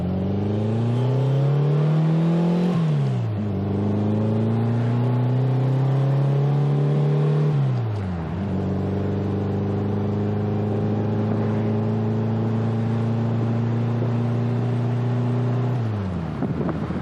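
A 1966 Volkswagen Beetle pulls away in first gear, its air-cooled engine droning loud and close as it revs up, drops back briefly with a shift, then climbs again in long rising sweeps under wind noise.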